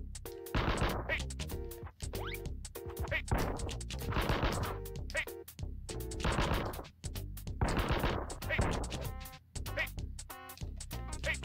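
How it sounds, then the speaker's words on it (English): Gunshots in The Mask on the SNES come in bursts of sharp, crunchy retro shot sounds, repeating in clusters over several seconds, with short gaps between volleys. "Let's shoot this guy."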